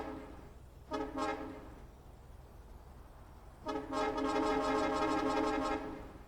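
Vehicle honk from the Honk mod in the video game Factorio: two tonal horn blasts, a short one near the start and a longer sustained one later, loud and alone with no talk.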